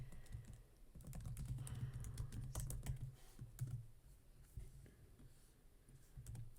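Soft keyboard typing and mouse clicks at a computer, a scattered run of light taps that is denser early on and sparser later. The sound is very quiet and close, with no voices.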